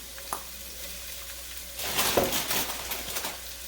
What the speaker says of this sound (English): we're going to saute our vegetables first